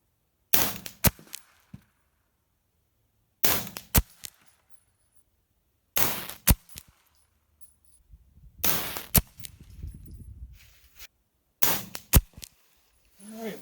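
Suppressed pistol shots through a SilencerCo Octane45 silencer on a Primary Arms FM9 with a 7-inch barrel, fired in five quick clusters of sharp cracks separated by silent pauses, close to the microphone.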